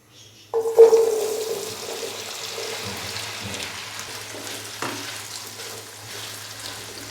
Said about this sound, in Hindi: अरवी को अभी हम तकरीबन 3 से 4 मिनट के लिए हल्का सा फ्राई कर लेंगे।